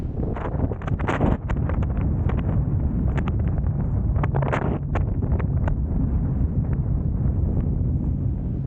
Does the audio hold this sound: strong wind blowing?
yes